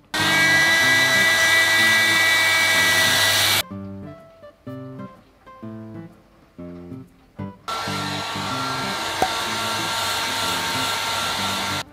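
A hair dryer blows hot air onto a dbrand skin sticker to press it onto an Apple device, a steady loud whir that cuts out for a few seconds, sputters briefly in short bursts, then runs steadily again.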